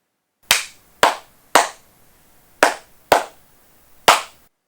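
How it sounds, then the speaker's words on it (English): Six sharp hand claps ring out alone in a quiet room, grouped as three pairs with short pauses between them, each clap crisp and close. "please clap 3 factorials"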